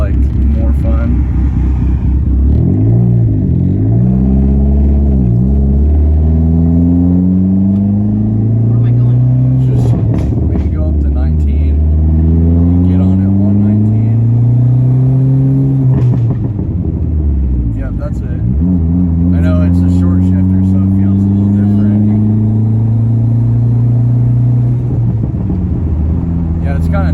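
A turbocharged Dodge SRT4 with a big turbo accelerates hard through several gears, its engine droning and climbing in loud, repeated rising sweeps with brief dips at each shift, heard from inside the car while people talk over it.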